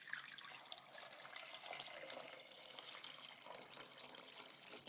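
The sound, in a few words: water poured into a simmering pot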